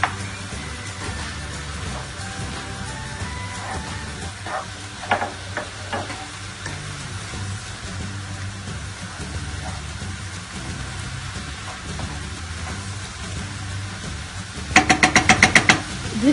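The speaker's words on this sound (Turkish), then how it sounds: "ve baharatlarımızı ekleyip kavurma işlemine devam ediyoruz" Spices sautéing with boiled borlotti beans in a pan for a spinach dish give a steady, continuous sizzle with occasional stirring knocks and a burst of sharp clatter near the end.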